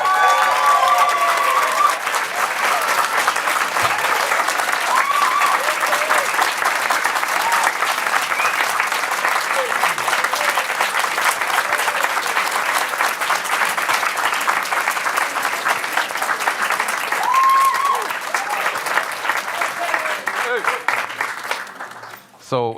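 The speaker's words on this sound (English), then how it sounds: "Let's give him a round of applause." Sustained audience applause at a school district board meeting, a loud continuous roar of many hands clapping that lasts about twenty seconds before cutting off abruptly, with occasional voices mixed in.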